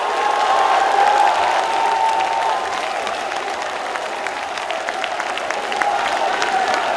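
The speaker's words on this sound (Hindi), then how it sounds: "जो लोग स्मृति ईरानी की बातों पर यकीन करते हैं वो हाथ उठाकर ताली बजाकर बताएं" A studio audience at an Aap Ki Adalat courtroom-style TV show, election special, applauds with a little cheering: a dense, steady wash of clapping and crowd noise at moderate level throughout.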